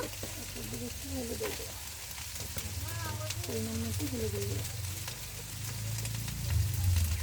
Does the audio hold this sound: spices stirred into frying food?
yes